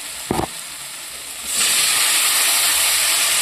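Water poured into frying spice paste for a fish-roe and potato curry sets off a sudden loud, steady sizzle and hiss that keeps going, after one brief knock just before.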